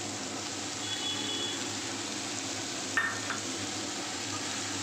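Prawns frying in a pan with turmeric, a steady soft sizzle running throughout, with a brief metallic clink partway through.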